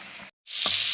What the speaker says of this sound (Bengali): দেখতে পারতেছেন আমাদের যে মাছ ভাজাটা, সেটা কিন্তু প্রায় কমপ্লিট হয়ে গেছে